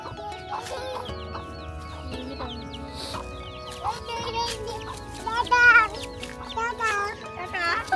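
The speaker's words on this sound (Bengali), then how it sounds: "মুরগিগুলোকে কেমন দৌড়ানি দিচ্ছে।" Farmyard chickens cluck and squawk in agitated bursts near an orange orchard as a dog chases them, while people, including a child, talk loudly over the commotion.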